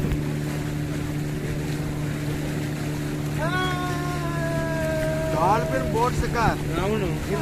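Motorboat ride on the sea off Goa on a dolphin-watching trip, a steady droning engine hum with wind buffeting, while people whoop and call out over it.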